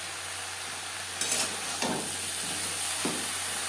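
Eggplant seasoned with turmeric and salt sizzles steadily in a pan, with a few scraping stirs of a spatula cutting through the constant frying hiss.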